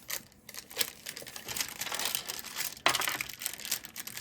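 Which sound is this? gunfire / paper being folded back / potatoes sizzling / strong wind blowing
paper being folded back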